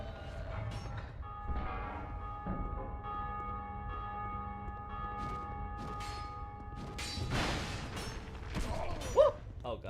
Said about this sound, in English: The other option is for me to probably ring the bell